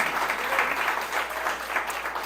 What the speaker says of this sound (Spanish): Alguien le da un aplauso fuerte al Señor, hermanos.